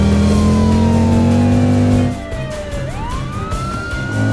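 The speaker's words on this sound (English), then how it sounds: "Police car has turned on the siren." A police siren wails loudly nearby, its tone sliding down, then sweeping back up as the engine rumbles beneath.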